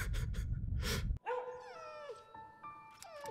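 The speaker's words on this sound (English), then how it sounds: "That dog, barking." Cartoon dog barking and yipping, a short burst of barks up front, then whimpering, squeaky whining cries that rise and fall, heard fairly close and loud with no talk.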